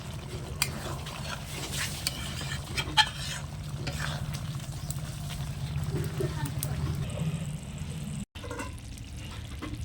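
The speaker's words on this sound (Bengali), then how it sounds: "এবার আমি একটু নেড়ে চেড়ে দিচ্ছি।" Broccoli cooked in yogurt with sugar is stirred in a pan, a steady scraping and soft sizzle running under background hum, with a few sharper utensil knocks against the pan.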